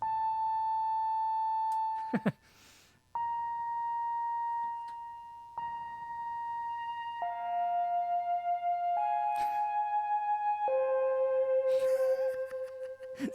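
A synthesizer with a sample and hold effect holds steady sine-like pitches that jump to new notes every second or two, stepping in a random sequence with brief clicks between.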